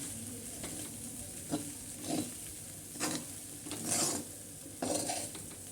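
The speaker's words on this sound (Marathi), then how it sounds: "हलाव हलाव सगळं मिक्स करून दे" Poha with turmeric and masala is stirred in a pan, with about five scraping strokes spaced roughly a second apart over a low, steady sizzle and no voices.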